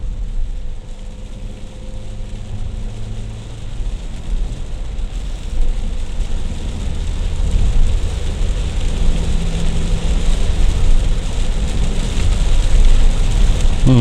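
Rain patters and hisses steadily around a car driving on the Binjai–Kualanamu toll road, mixed with the low rumble of the vehicle and tires, growing slightly louder over time.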